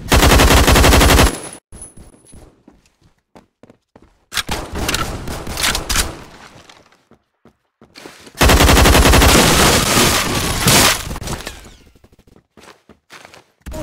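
Automatic gunfire in a shooter video game, loud rapid bursts in three separate volleys with short quiet gaps and faint footsteps between them.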